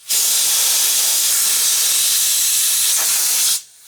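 Air is blown hard into the fuel line of a RZR Turbo during fuel pump removal, producing a loud, steady, close hiss that starts abruptly, holds for over three seconds and stops suddenly, with no talking.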